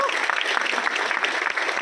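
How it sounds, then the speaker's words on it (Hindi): Dense, continuous audience applause fills the room at a public gathering, many hands clapping loudly and evenly throughout the short stretch. "शालिग्राम साहू जी, एक बार जोरदार ताली सर के लिए।"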